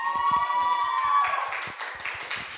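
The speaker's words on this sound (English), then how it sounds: "Applause." Classroom applause during a teaching performance assessment: a short burst of scattered hand claps from students, moderately close, with a sustained tone and faint voices underneath.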